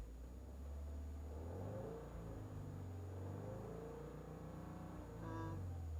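A 2021 Subaru WRX with a Cobb Accessport Stage 1 tune revs with the clutch in, its engine rising and holding near 4,000 RPM in a steady, rumbling drone before a short fresh surge at the end.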